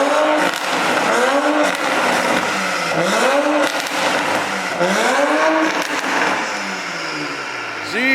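Car engine revving hard after a downpipe exhaust install, loud, deep, aggressive rasp with repeated rising and falling rev sweeps through the whole stretch, close by, with voices talking over it.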